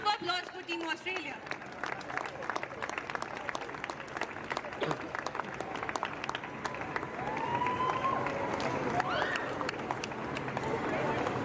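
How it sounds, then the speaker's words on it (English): Crowd applause for Team Australia at a youth Optimist dinghy sailing championship awards ceremony, steady dense clapping throughout with a voice speaking over it early on, growing slightly fuller toward the end. "A round of applause for Team Australia."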